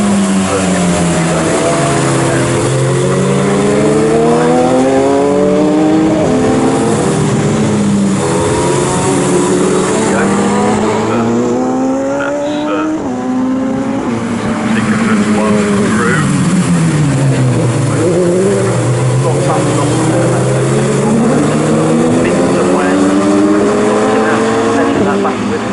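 Bikesports race cars scream past at Snetterton, their engine notes rising and falling through gear changes as they pass close by, with a commentator talking over the loud, continuous racing noise.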